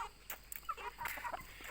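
A small farm flock of chickens clucks nearby in a few brief, soft, irregular calls, fairly quiet with no voices.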